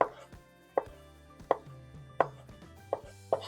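Sweet, tangy gherkins are thinly sliced with a knife on a board, giving six crisp, evenly spaced chops that ring out close and clear over near silence.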